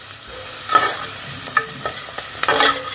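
Chicken pieces are stirred and turned in a hot frying pan, with scraping spatula strokes over a steady sizzle, close up with no talking.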